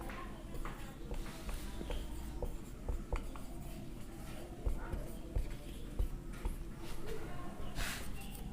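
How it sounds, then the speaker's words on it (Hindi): Pen or chalk writing out a definition during a chemistry lesson, with a continuous scratchy stroke texture and small taps, close up, against a low steady background. "तो परिभाषा इसकी लिख देते हैं"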